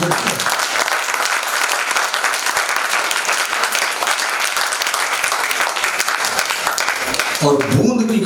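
A theatre audience at a Lucknow stage performance of the play Ek Boond gives loud, sustained clapping that fills the room, and a voice begins speaking as it fades at the end.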